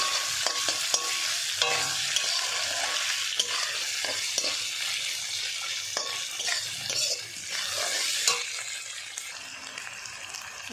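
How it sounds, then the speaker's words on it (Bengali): Dried fish that was fried earlier is stirred in a pan with oil and spices, bringing steady sizzling and frying hiss with scraping spatula strokes and occasional clinks, loud and close throughout. "ভাজা মাছগুলো দিয়ে দিলাম, দিয়ে এবার নাড়ছি"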